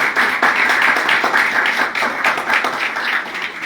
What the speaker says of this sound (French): Je demande que vous applaudissez pour vous-même.